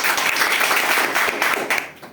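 An audience claps for visiting guests at a direct-selling gathering, a dense, fairly close round of applause that holds steady and then tapers off toward the end.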